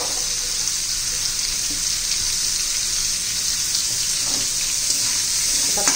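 Chopped onion sautéing with bitter gourd in a hot pan, a steady close hiss of frying that runs unbroken throughout, with faint stirring scrapes and no voices.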